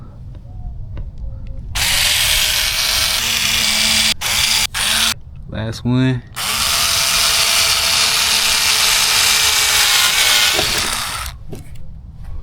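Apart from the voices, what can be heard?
power drill drilling holes in a Dodge Charger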